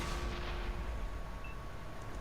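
Tank cannon fire in the World of Tanks video game, heard as a heavy continuous booming rumble with no voices present.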